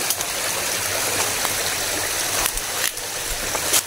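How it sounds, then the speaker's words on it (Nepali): A forest stream rushes steadily and loudly, a broad, continuous wash of flowing water close by with no voices. "यस्तो मजाले पानी छ खोला"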